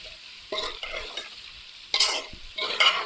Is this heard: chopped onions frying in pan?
yes